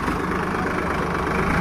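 A Swaraj 744 XT tractor idles close by, its diesel engine a steady low rumble that holds without change for the whole short stretch.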